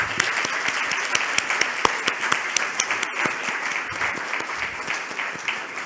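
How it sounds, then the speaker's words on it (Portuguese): Audience applause at the closing session of the LACNIC 40 / LACNOG 2023 conference, a steady, dense wash of many hands clapping at full volume with a few sharper individual claps standing out, sustained throughout. "Uma salva de palmas."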